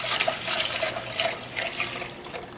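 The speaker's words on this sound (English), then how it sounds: "I'm going to go ahead and pour in my 4 cups of milk and just blend it all in." Four cups of milk poured into a pan for cheese sauce, a continuous splashing, gurgling stream that rises and falls slightly over a couple of seconds, close by with no voices.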